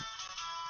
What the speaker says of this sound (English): That's my phone you hear in the background.